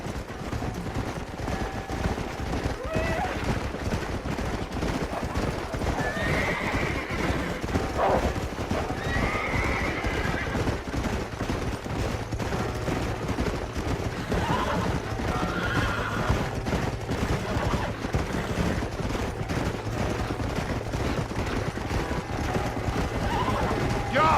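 Horses whinny and neigh repeatedly over steady hoofbeats in Red Dead Redemption, set against a dense, constant game soundscape with occasional distant gunfire and bits of talk.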